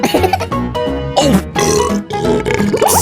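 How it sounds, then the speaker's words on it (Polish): A long, loud, throaty burp right after drinking cola, rumbling and gurgling for about three seconds close to the microphone. "Co za beknięcie!"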